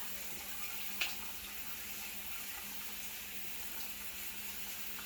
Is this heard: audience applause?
no